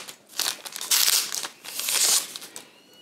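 Plastic and paper wrapping crinkles and tears as a pink swab with a black break line is unwrapped, producing bursts of close crackling in uneven waves without any talk.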